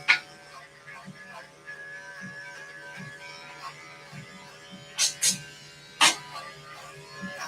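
Electric clippers shave down a dog's coat, a steady buzzing hum running throughout with a few sharp louder clicks and rustles near the end, close by.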